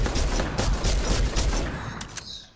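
Dense, sustained gunfire from a Fortnite match, a loud continuous burst of rapid shots that carries on for a couple of seconds and then thins out toward the end.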